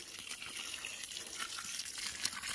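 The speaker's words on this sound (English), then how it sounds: "Get this water hose here." Soft steady hiss of a garden hose spraying water in a vegetable garden, faint and continuous with no talking.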